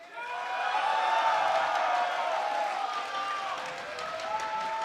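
A large crowd at an esports tournament cheers and applauds for Team WE, the Chinese champions, a sustained roar with whoops that swells early and stays loud throughout.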